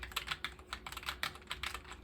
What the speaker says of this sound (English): And I'm typing away.